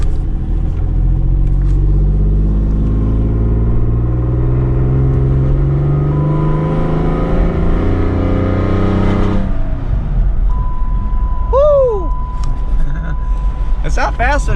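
A Dodge Magnum's engine runs while driving, a loud steady low rumble with rising and falling tones that fades to a rougher idle-like drone, then a few short beeping chimes near the end.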